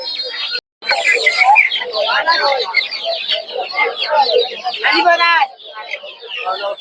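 Native desi chickens and chicks at a busy village poultry market in Narsingdi, with dense clucking and chirping throughout and people talking over the birds.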